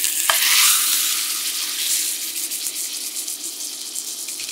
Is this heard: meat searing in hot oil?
yes